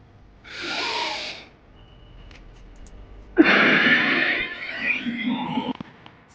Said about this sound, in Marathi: परत लांब श्वास घ्या